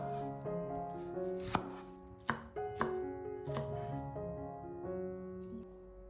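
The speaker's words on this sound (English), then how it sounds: "Slice half an onion into thin strips" A knife cuts half an onion into thin strips on a board, with a few sharp chops standing out against soft background music and no talking.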